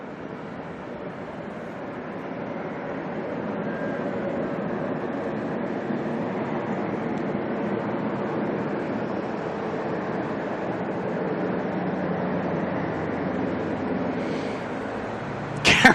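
A Jetstar airliner departs Auckland Airport for Brisbane, a steady broad engine roar that builds slightly and holds, heard from a distance with no talking.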